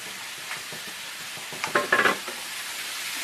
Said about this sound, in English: Have my peppers over here cooking.